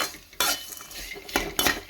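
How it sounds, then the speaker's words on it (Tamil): Bitter gourd being fried in oil in a pan, with close utensil scrapes and clinks in a few sharp bursts over a soft, low background sizzle. "எண்ணெய் சேர்த்துட்டு நல்லா பொரியிற அளவுக்கு வறுத்துக்கலாம்."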